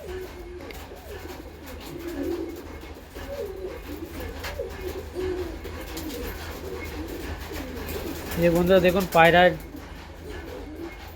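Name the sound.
pigeons with wings freed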